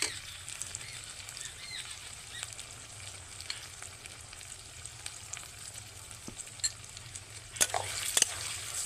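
Onions and tomatoes frying in oil for a pointed gourd and prawn curry give a soft, steady sizzle, with faint stirring scrapes and a couple of sharper clinks near the end.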